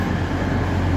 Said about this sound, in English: departing now is going to be the 1016 Eastern Railway to Crewe, and also the 1017 Northern service to Leeds.